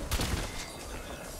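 Gunfire in Fallout 4, a short loud burst of rapid shots right at the start that fades into a dense, rumbling echo.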